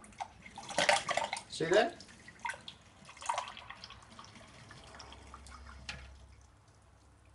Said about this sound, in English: When it sputters and spurts like that, that means that the magnesium in your filter has been working with the water